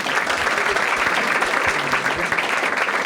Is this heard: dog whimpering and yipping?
no